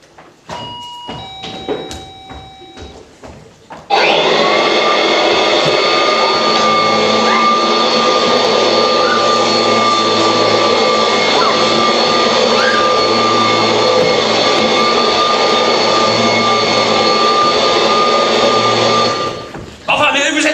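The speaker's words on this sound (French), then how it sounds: "Je vous présente Aspi, l'aspirateur du 3e millénaire." A vacuum cleaner called Aspi switches on and runs with a loud, steady roar and a sustained whine, held level for about fifteen seconds before cutting off. Brief knocks and clatter come just before it starts.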